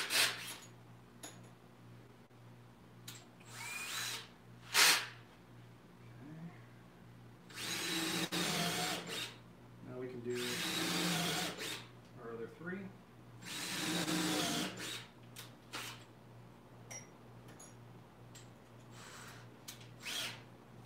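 Power drill driving 1 1/4 inch pocket hole screws into a wooden cornhole board brace, several short whirring bursts of varying length with quiet pauses and light handling noises between.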